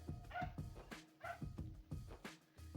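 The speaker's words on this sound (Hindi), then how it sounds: "तब शायद उसके लिए भौंक रहे होंगे" Village dogs bark repeatedly in a quick, uneven series of yips and woofs. The barks sound faint and fairly distant, with nobody talking.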